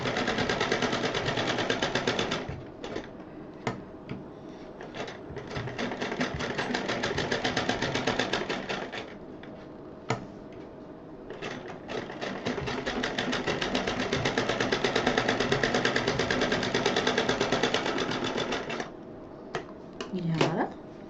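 A sewing machine stitches the sides of a 7-inch fabric piece for a stylish purse, running in long steady bursts with brief pauses between runs, close and fairly loud.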